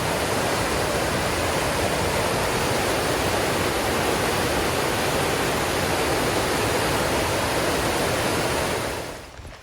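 Loud, steady roar of rushing river water near Moul Falls, British Columbia, dense and continuous throughout, fading abruptly at the very end.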